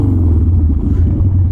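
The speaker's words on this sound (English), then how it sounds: "Some guy just revved at me real loud." A motorcycle engine revs loudly nearby on a street crowded with bikes, a dense, continuous rumbling roar that fills the whole moment.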